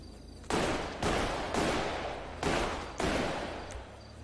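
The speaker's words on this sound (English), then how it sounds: "Maybe we could just shoot out the window." Five heavy gunshots in a video game, evenly spaced about half a second apart, each a loud close blast with a long decaying echo, no talking.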